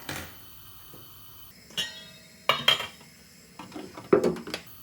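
A metal cooking pot is handled and set down on a stove, giving several sharp clanks and knocks at irregular intervals over a quiet kitchen background, close and moderately loud, with no talking.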